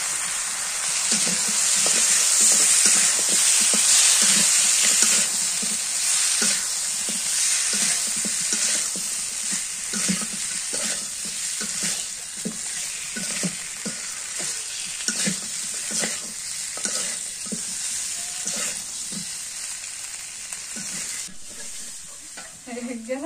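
Spice masala sizzles and fries in a pan as a spatula scrapes and stirs it in steady rhythmic strokes, close and continuous, in a village kitchen.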